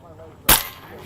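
A single sharp gunshot fired while shooting a handgun loaded with a round that may have double-fed, a loud close crack that decays quickly.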